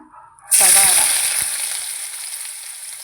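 Chopped chicken dropped into hot oil already used for frying, bursting into a loud, close sizzle with a few clunks as it lands, then a steady crackling hiss that fades slowly.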